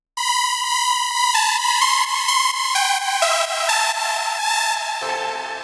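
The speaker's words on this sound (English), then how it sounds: "It's basically just a super saw, some little EQing, and some multiband compression" A bright supersaw synth layer an octave higher in a dance track, playing sustained stepping chord notes alone, loud and continuous, ending with a drop into a low rumble.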